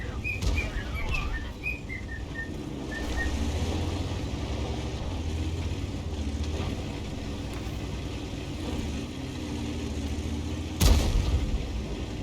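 A single sharp tank cannon blast in World of Tanks cracks out near the end of the clip, following a stretch of light bird chirps and a steady low rumble from the game.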